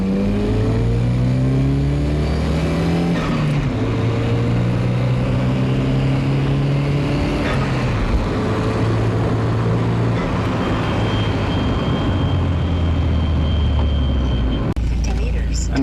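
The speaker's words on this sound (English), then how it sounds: "now it's time to park the Volvo up again" Volvo car engine revs close by while driving, pitch climbing and dropping through repeated gear changes in a sustained, loud drone, with talking mixed in.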